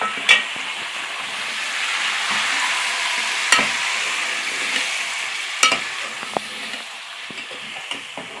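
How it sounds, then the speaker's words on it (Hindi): Chicken frying in a pan with garlic ginger paste, nutmeg and mace, a soft steady sizzle under occasional sharp clinks and scrapes of a spoon against the pan, up close. "अब हम इसमें अपनी चिकन शामिल करके थोड़ा सा भूनेंगे।"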